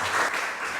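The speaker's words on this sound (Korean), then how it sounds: "화분영의 박수 부탁드리겠습니다." A church congregation at a Friday evening service applauds to welcome a missionary, giving a brief, dense wash of clapping.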